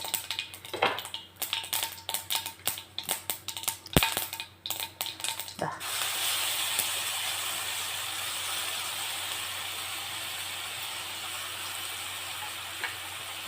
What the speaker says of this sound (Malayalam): നമ്മുടെ കടുക് ഒന്ന് പൊട്ടി വരുമ്പോഴത്തേക്കും നമ്മൾ അരച്ച് വെച്ച മാങ്ങ, ചുവന്നുള്ളി, ഇഞ്ചി, തേങ്ങ ഇതെല്ലാം കൂടി ഇട്ടൊന്ന് വഴറ്റിയെടുക്കാം